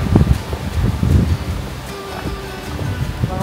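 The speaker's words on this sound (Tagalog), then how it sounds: "Mahangin." Strong wind blowing outdoors at a riverside campsite on an overcast day, gusty rushing noise buffeting the microphone in heavy low bursts, with water surging in the background.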